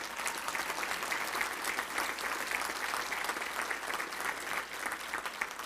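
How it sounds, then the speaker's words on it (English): Banquet crowd at the 2019 Little Rock Touchdown Club awards applauding honorees Raymond and Amy, steady many-handed clapping at moderate volume, heard from some distance and continuing evenly. "Please stand and let's give them a round of applause right here."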